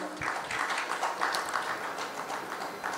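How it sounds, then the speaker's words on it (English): Applause from an audience at a government digital-governance event as an official is called to the stage, a steady wash of many hands clapping throughout at moderate level. "Can we have a big round of applause for him?"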